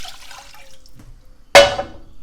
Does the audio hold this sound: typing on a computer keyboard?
no